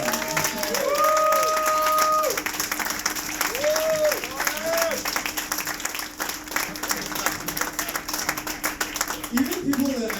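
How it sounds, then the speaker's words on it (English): Wedding guests clap during a best man speech, a moderate spread of applause beneath tonal whistle-like or squeaking sounds and background chatter. "Can we all please clap for that?"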